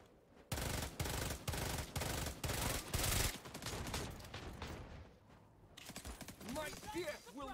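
Automatic gunfire in the mobile shooter game Hyperfront: loud rapid bursts for nearly three seconds, then scattered shots and game noise, with a voice briefly heard near the end.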